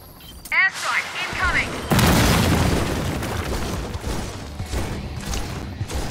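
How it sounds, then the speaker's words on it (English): An airstrike in Gears of War 4 hits a wall with a loud, sustained roar of explosions and rumbling debris that lasts several seconds. A short burst of speech and chirps comes just before the blast. "I'm requesting an airstrike."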